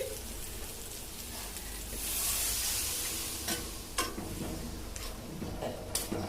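Water poured into a pan of frying spices for a roast of chicken bursts into a loud hissing sizzle that swells, then settles into crackling and a few sharp clinks of stirring.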